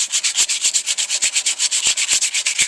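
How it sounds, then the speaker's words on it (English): Smooth motorcycle surfaces are being rubbed down by hand before painting in a garage, in a fast, even back-and-forth rhythm of abrasive strokes, close and loud, with no voices. "just keep it all rubbing down"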